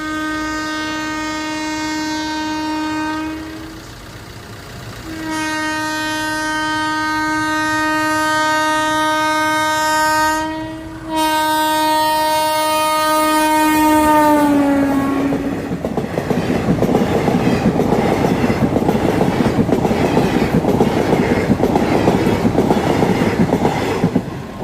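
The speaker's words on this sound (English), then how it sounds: "So now the train is about to come." A train sounds its horn in long, loud, sustained blasts with brief breaks between them, then rolls past nearby with a rising, rushing clatter of wheels on track.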